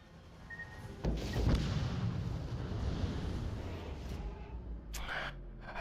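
Torpedoes striking a ship in the naval game World of Warships Legends, a sudden heavy explosive impact followed by a long rumbling roar of blast and debris, with further hits near the end.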